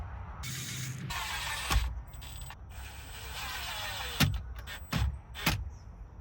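A plastic upper steering column cowl on a Fisker Ocean dashboard snaps into place, giving several sharp, close plastic clicks and knocks over a few seconds against a low background hum, with no talk.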